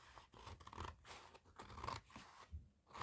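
Scissors snip through a wallpaper-covered file folder journal cover in a quick, uneven run of close, crisp cuts and scratchy crunches, with brief pauses between strokes.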